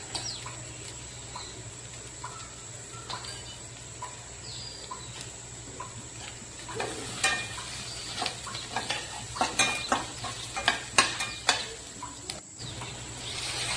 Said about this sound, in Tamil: ரெண்டையுமே போட்டு நல்லா மிக்ஸ் பண்ணிக்கலாங்க. நல்லா அது மாதிரி வதக்கிக்கலாம்.